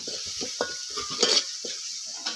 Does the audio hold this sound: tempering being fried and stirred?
yes